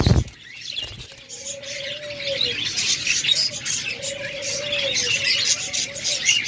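Budgerigars chatter and chirp in a busy, continuous flock, with short warbling calls and soft flutters layered over one another, fairly close by.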